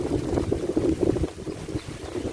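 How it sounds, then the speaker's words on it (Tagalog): Strong wind buffets a microphone outdoors on a chili pepper farm, a steady rough roar with gusty swells throughout and no voices. "Lakas ng hangin mga kapsat dito."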